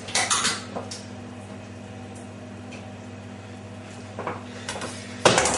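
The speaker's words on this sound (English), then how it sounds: "let's give the knife a clean" A knife being cleaned during fish filleting, heard as brief metallic clinks and scrapes at the start and again near the end, with a quiet steady hum between.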